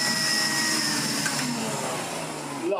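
An AEG Compact Electronic 406 vacuum cleaner runs with a loud, steady whine and airy roar, holding constant before its pitch dips and briefly shifts near the end.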